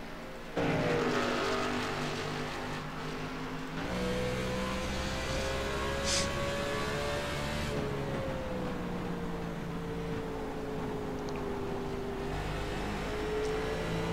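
Race cars circling at Phoenix in a racing game, engines droning with a steady, shifting pitch close by, loud and continuous with no talk.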